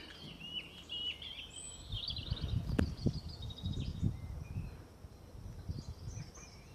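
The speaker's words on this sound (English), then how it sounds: "You really hear the birds singing now." Birds sing and chirp outdoors in the countryside near sheep in spring, with thin high calls scattered through the clip over low wind or handling rumble, fairly faint and at a distance.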